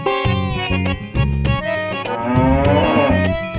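Loud, close buffalo-like mooing from a strange bike that looks like a buffalo in a Hindi comedy show, several long harmonic lowing calls run back to back across a few seconds, rising near the end, with no talk over them.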